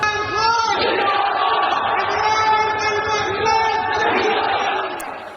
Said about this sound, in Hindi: इमरान खान के समर्थकों ने उनकी रिहाई के लिए कैसे लाहौर में आजादी के नारे लगाए।